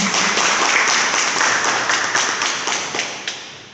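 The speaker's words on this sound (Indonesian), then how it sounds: "Tepuk tangan untuk kita semua." An indoor art exhibition audience claps together in a dense burst of applause that fades out over a few seconds, with a few last scattered claps.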